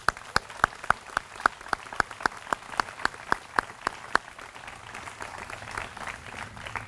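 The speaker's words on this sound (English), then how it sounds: "Let's give them a big round of applause." An audience at a middle school closing ceremony for the eighth grade class claps in a hall, sharp individual claps in a steady rhythm that thin out toward the end.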